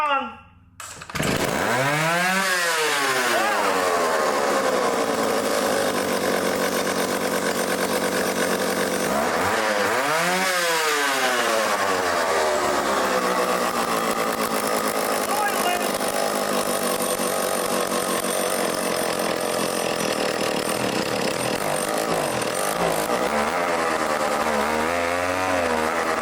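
An old chainsaw engine latched on high idle roars loud and close for over twenty seconds after a brief quiet start, its pitch dipping and surging twice early on before settling into a steady run.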